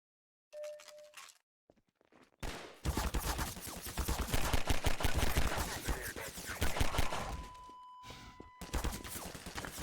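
A Combine turret in a Half-Life 2 Hammer map fires a long sustained rapid burst of loud gunfire, preceded by a brief beep and short mechanical sounds.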